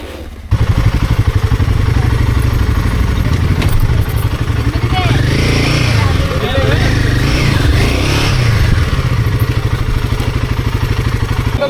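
Several motorbikes ride off on an outing near a hidden cave in Vizag, their engines loud and steady from start to finish, with people talking over the running motors.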